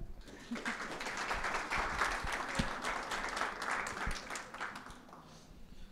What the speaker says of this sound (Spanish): Recibimos al profesor con un aplauso.